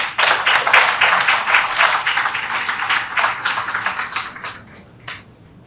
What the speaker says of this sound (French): et mérite vos applaudissements, mesdames et messieurs